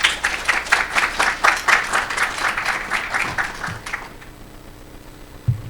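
An audience at a forum applauds with dense, lively clapping for about four seconds, which then fades out and leaves a quiet room with a faint stray knock.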